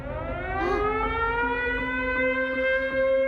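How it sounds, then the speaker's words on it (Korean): A wailing siren rises and holds a long steady tone at a night house fire, sounding at moderate distance with no voices. "사이렌 소리가 들려오기 시작합니다"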